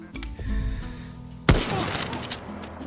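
Gunfire in the video game Far Cry 6: a single sharp, loud shot cracks out after a stretch of quieter ambient game noise, followed by a few fainter reports and rattling debris.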